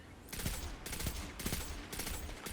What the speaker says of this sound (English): He's just blindly shooting.